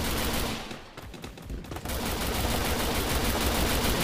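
Gunfire in the Free Fire Max mobile battle game, a dense, loud burst of rapid shots that briefly thins out before resuming as continuous automatic fire through the rest.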